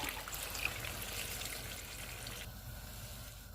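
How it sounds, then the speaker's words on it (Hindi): Two glasses of water poured into a pot of spiced beef cooking on a stove. A soft, continuous trickle with a light sizzle runs at low volume, easing off near the end. "अब इसमें मैं 2 गिलास पानी डाल रही हूँ"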